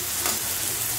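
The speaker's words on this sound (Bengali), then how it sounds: "মানে আলুটা একটু নাড়িয়ে চাড়িয়ে একটু ভাজা করতে করতে নরম করে নিতে হবে" Potatoes frying in a pan while being stirred, a dense close sizzle that stays steady and loud throughout.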